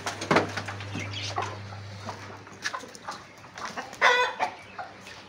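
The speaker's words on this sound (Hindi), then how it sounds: "ये मुर्गियाँ भूखी हैं।" Hungry hens in a backyard bird enclosure cluck in short, scattered bursts, with a louder flurry of calls near the end and a steady low hum underneath.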